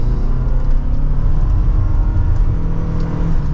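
A 2024 Toyota RAV4 Hybrid XSE with a four-cylinder engine accelerates at full throttle in sport mode, heard from inside as a loud, steady engine drone and low road rumble.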